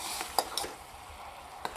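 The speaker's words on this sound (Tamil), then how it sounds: "இப்போ பால் கொதிச்சு வந்துட்டுருக்குங்க" Milk boiling in a pan over a medium flame while making puffed rice balls: a steady, soft bubbling hiss with a few faint clicks. No one speaks.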